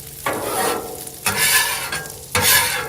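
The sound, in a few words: scraping drippings off a Blackstone griddle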